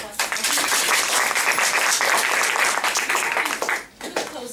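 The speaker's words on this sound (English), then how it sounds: "Another round of applause." Steady, dense applause from a Toastmasters club audience fills the room, loud and continuous before briefly dipping near the end and picking up again.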